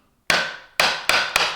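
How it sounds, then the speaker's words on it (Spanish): A hammer knocks apart a wooden sliding dovetail joint, with four sharp, loud, close strikes that speed up slightly after a short silence. "ahí con el martillo y lo sacamos."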